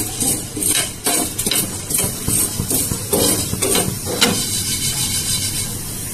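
Panch phoron spices fry in hot oil for a mango pickle, a dense, steady crackle with scraping stir clatters throughout, fairly loud and close.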